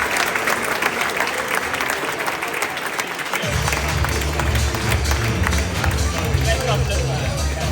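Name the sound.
audience applause at awards ceremony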